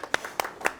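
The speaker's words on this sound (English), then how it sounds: "You can clap now." Three sharp, separate hand claps ring out from a small audience after a poem reading, evenly spaced and fairly close.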